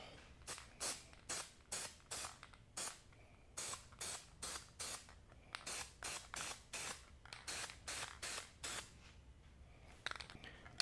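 Gorilla Glue contact adhesive sprayed from a can in a long run of short, regular hissing bursts, each about a third of a second, close and fairly quiet, with no talking.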